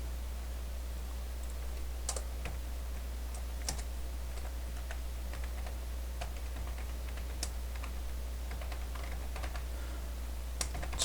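Typing on a computer keyboard while searching an industry category in a stock-trading app, with sparse, irregular key clicks over a quiet steady hum and no speech.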